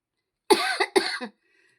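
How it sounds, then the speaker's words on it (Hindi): Two quick, harsh coughs close to the microphone, back to back, followed by silence. "खांसी बहुत ज्यादा है"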